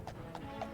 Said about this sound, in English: The horse and cart just kind of canters.